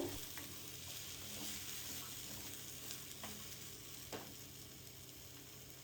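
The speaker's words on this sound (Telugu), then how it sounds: "ఇప్పుడు అంతా ఒకసారి బాగా ఫ్రై చేసుకుంటూ" Peanut chutney ingredients with chopped onion fry in a pan, giving a steady, broad sizzle throughout with a few soft stirring scrapes and clicks, close and fairly quiet, no talking.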